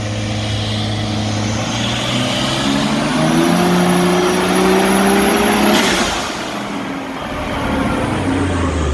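A Ford BF XR6 Turbo with a built engine and built ZF gearbox running on a dyno, its loud engine droning and rising steadily in pitch with a high turbo whine. It then cuts off abruptly and settles back to a lower hum.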